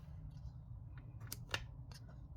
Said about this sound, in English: is my scissors gone blunt these days?